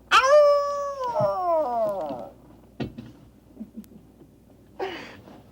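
A long, wavering howl sweeps downward and fades, followed by a few scattered thumps and a brief noisy burst near the end.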